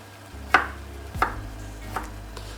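A knife chopping broccoli into small pieces on a cutting board, four separate thuds spaced unevenly and close, the last one fainter, over a low hum with no talking.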